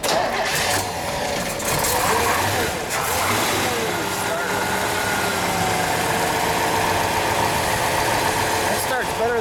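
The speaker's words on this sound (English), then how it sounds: "Let's start it. Let's get a little exhaust note." A 1965 Chevrolet Chevelle Malibu SS 396 Z16 in Regal Red cranks and fires up, then settles into a loud, steady rumbling idle that fills the whole stretch.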